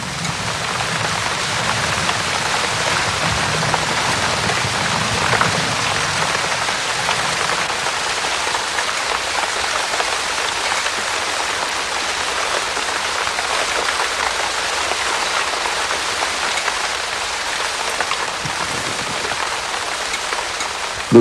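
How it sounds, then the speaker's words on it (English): Heavy rain pounds steadily across the Serengeti plains, a dense, continuous hiss of downpour with no breaks and no voices. "The rain pounds away for 2 hours"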